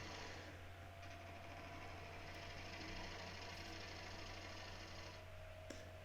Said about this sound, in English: Just using push cuts in at a slight angle to narrow this nub down.